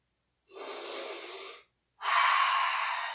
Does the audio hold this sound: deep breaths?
yes